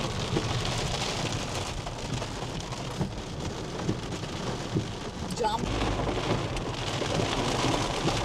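Steady heavy rain pours down on surfaces, a dense continuous patter with low rumbling underneath, while a voice speaks briefly in the middle.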